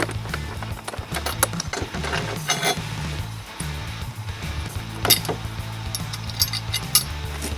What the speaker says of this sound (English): you go ahead with Allen key. And you remove the grab rail first.